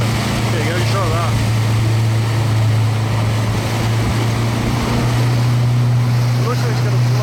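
A motorboat runs steadily through rough water, its low engine drone constant and loud with wave splash and wind noise mixed in, while people talk over it.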